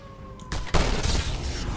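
Gunfire in the video game Just Cause 2, a sudden loud burst of dense rapid shots breaking in after a quieter moment and carrying on as a harsh blasting roar.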